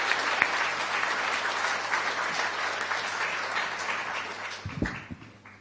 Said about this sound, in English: Would you please give a huge round of applause for the great and amazing Dr.